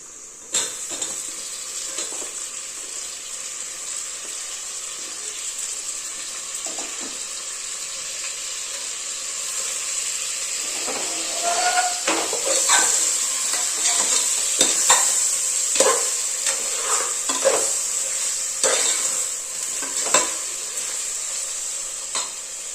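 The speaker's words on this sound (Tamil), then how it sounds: "இப்போ இந்த சமயத்தில் நம்ம கட் பண்ணி வச்சுருக்கிற தக்காளியை சேர்த்துக்கலாம்" Chopped tomatoes go into a hot pan for vegetable biryani, setting off a steady bright sizzle as a utensil stirs and scrapes, with clinks growing busier partway through.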